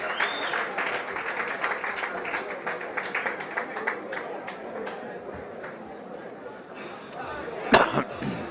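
A crowd at a Road To MTGP fight applauds Riccardo Ramadori after his match against Tzortzis, with scattered claps and crowd murmur beneath ongoing commentary.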